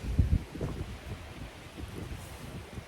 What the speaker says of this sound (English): Yeah, the wind here.